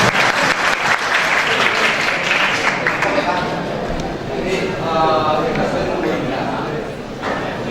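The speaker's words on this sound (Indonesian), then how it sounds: "kita tepuk tangan" Seminar audience applauding steadily for several seconds, loud and close, with a voice speaking over the clapping partway through before the applause tapers slightly.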